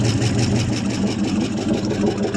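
A 1974 International pickup engine that had sat unused for about 25 years idles steadily up close, with a loud, even rumble and a fast, regular throb throughout and no talking.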